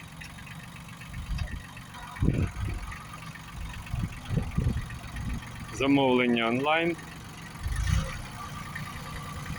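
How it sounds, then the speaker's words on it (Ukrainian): A Japanese Kubota B1-17 mini tractor, fitted with a rotary tiller, runs at a low steady idle under a man's speech, with a short burst of music partway through. "Відвантажуємо куботу Б-17 з фрізою."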